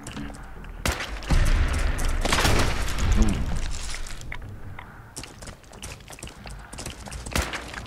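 Gunfire in the video game Fallout 4: a sharp loud shot, then a burst of heavy rapid firing and booms, followed by scattered single shots and clattering impacts.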